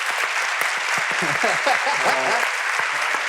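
Convention audience at a game developer's founders Q&A applauding steadily, a dense wash of clapping throughout with a brief voice or cheer rising partway through.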